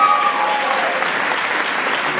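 Loud, sustained applause from an audience at a tribute event welcoming a singer, a dense wash of clapping that holds steady throughout.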